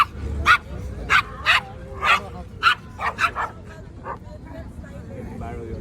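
Several dogs let out a series of sharp barks and yips, roughly a dozen bursts at close range, followed by softer whimpering toward the end.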